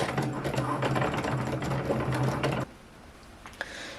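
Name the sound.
Cricut machine cutting out labels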